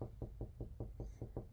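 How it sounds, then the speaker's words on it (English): An English bulldog scratches her ear, producing a steady series of about eight dull, knock-like thumps evenly spaced at a quick rhythm, close and fairly loud, with no talking. "She's sitting there scratching her ear, and it sounds like this."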